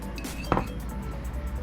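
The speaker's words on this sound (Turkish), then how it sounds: "Pidelerimizin üzerine sürmek için yoğurdumuzun üzerine bir yumurtayı ilave ediyorum" An egg is added to yogurt in a bowl, giving one sharp clink about halfway through over a quiet kitchen background.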